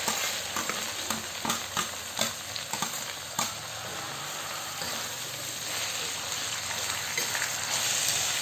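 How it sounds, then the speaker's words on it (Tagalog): Chicken sotanghon with Baguio beans and carrots is stirred in a pan, with rapid clinking and scraping strokes over a soft, steady sizzle that settles into a quieter hiss later on. "Ayan, haluin lang natin."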